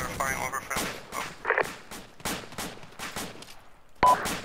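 Gunfire in the military video game ArmA II, a rapid series of sharp rifle shots and bursts, some loud and close, others more distant, with radio-style voices talking between them.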